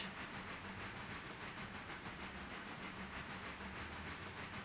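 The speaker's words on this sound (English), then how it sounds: "And let the steam flow out." Steam venting from a Shay locomotive in the Railroader simulation game, a steady broadband hiss that holds for several seconds at a moderate, even level with no voices.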